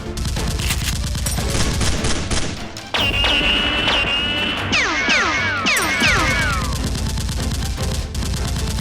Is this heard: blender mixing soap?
no